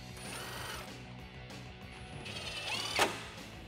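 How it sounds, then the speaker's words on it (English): A ratchet fitted with a 10 mm socket tightens bolts while a grille is being mounted on a Toyota Tacoma. The clicking pawl runs in short quick bursts, quiet and close, with a slightly louder click near the end. "Grab your 10 millimeter socket and tighten these down."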